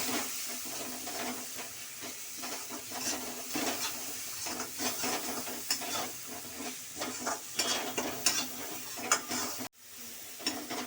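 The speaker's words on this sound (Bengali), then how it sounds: "দিয়ে এটা ভালো করে কষে নেব।" Tadka masala is stir-fried in a pan for egg tadka, giving a steady close sizzle with frequent scraping spoon strokes and a brief knock near the end, no voices.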